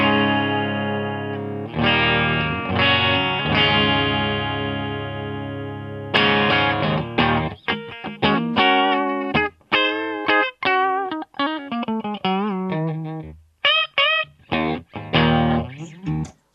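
Electric guitar played clean straight through the amp with no effects, sustained chords ringing at first, then a run of quick plucked notes and short stabs with brief gaps, loud and close, alone.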